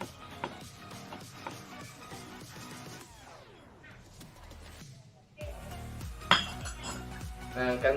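A utensil stirs raw shrimp with salt and sugar in a bowl, giving light clinks and scraping against the dish with some background sound.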